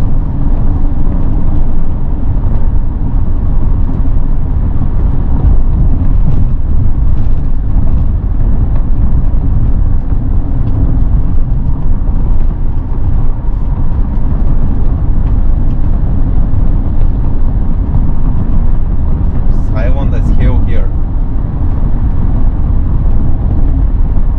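A Mercedes-Benz E320 CDI V6 diesel with a 7G-Tronic automatic accelerates at full power, heard from inside the cabin as a steady, loud engine and road roar throughout, with a brief whine near the end.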